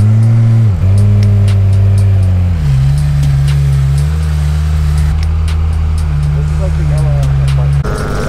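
A Ferrari backing into a parking spot close by, its engine a loud, deep, steady rumble that drops in pitch partway through and holds, ending with a brief shift near the close.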